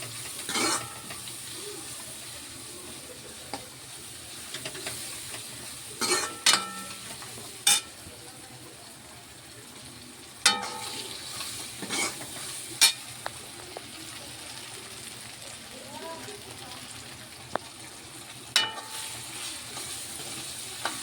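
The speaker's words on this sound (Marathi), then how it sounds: "आता हे सगळं एकदम मिक्स आणि छान भाजून घ्यायचं" A spice and tomato mixture being roasted and stirred in a black iron wok, with a soft continuous sizzle and scattered metallic scrapes and clinks of the spoon against the pan, close and fairly quiet, without speech.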